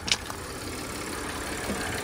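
A car engine idles, a steady even rumble heard close up under the hood of a salvage-auction vehicle, with a couple of light clicks early on.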